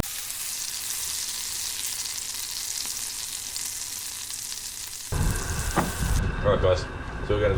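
Chips sizzle and crackle in hot oil, a faint steady hiss at first that turns loud and close with bubbling and spitting as they go into the pan.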